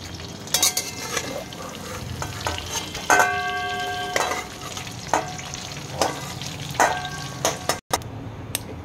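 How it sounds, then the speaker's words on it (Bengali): Bay leaf, dried chilli, cumin and whole garam masala spices sizzling in hot oil left from frying duck eggs, a steady crackle broken by sharp clinks and scrapes of a spoon stirring against the pan. "ডিম তুলে ওই তেলেই আমি ফোড়ন দিয়ে দিলাম, তেজপাতা, শুকনো লঙ্কা, সাদা জিরে আর গোটা গরম মশলা"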